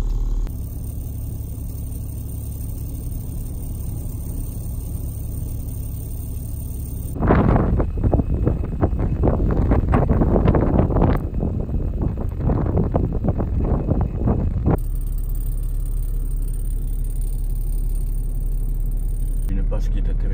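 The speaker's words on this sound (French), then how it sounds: "La tempête de sable arrive plein fer." A Sahara sandstorm roars around a Toyota HDJ80 4x4: a steady low cabin rumble gives way midway to several seconds of loud, rushing wind before the rumble returns.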